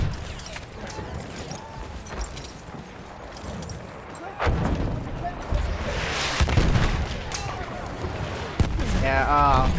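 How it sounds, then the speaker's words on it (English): Explosions and gunfire in the World War I shooter game Battlefield 1, a dense run of booms and blasts with bursts of shots layered throughout, loud and continuous, with a voice talking over parts of it. "oh, this explosion spam."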